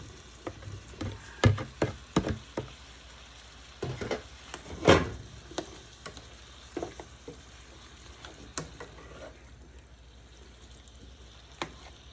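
Meat fries in a pan for a stew stir fry, giving a soft, constant sizzle broken by scattered clacks and scrapes of stirring, with one louder burst partway through.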